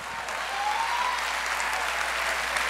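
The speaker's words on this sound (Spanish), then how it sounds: "Un aplauso para el que anda solo." Steady, full applause fills a room at a student leadership showcase, a dense crowd of hands clapping continuously with a faint tonal whistle briefly riding over it.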